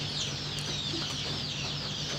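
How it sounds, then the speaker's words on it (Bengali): Young desi chicken chicks, one to one-and-a-half months old, cheep and cluck continuously at a poultry farm, a busy high-pitched chorus close by under a steady hum. "এগ্রো প্রজেক্টের যে দেশি বাচ্চাগুলো উৎপাদন হয়ে থাকে সেই বাচ্চাগুলো এখানে আপনারা দেখতে পাচ্ছেন।"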